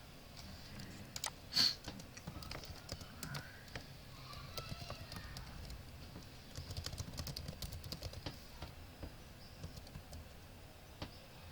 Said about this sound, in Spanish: Y así se ingresaría por el teclado.